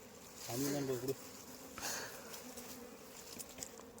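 Bees buzz close by during a wild honey harvest, a loud drone swelling and fading in short passes before dropping to a fainter hum in the background.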